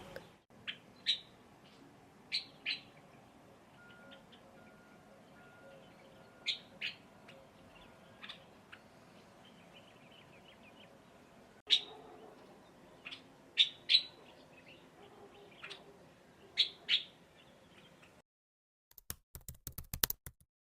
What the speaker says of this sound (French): Juste écouter les petits oiseaux